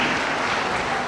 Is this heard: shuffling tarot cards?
no